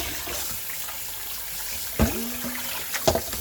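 Cold tap water running while lamb neck meat is washed in a sink, a steady low wash of flowing water with a few brief splashes and clinks near the middle and end.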